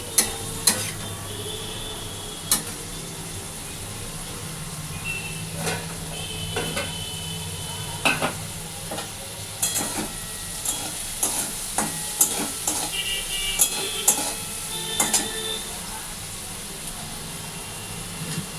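Vegetable fry with onion stir-fried in a pan with little oil, a soft steady sizzle broken by repeated sharp scraping clicks of the spatula, close and without talk.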